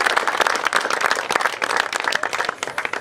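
An audience applauds at a milk festival. The clapping is dense and sustained, moderately loud, and holds steady before thinning slightly toward the end.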